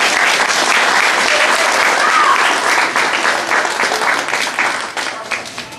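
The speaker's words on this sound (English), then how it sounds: "Big round of applause, guys." Loud, sustained applause from a crowd at a Cub Scout pack spring campout, steady throughout and tapering slightly near the end, with a few cheers mixed in.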